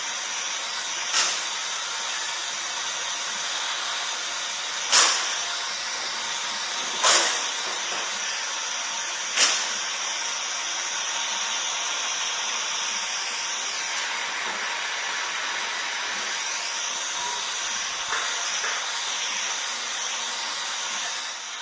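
A gas torch burning steadily with a loud continuous hiss and roar while vacuum is applied on and off, marked by several sharp clicks or pops at intervals over the flame.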